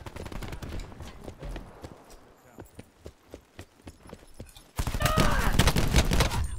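Automatic gunfire in the first-person shooter Black Ops 4 during a Gun Game match: a string of sharp, evenly spaced shots, then a loud, dense burst of rapid fire near the end.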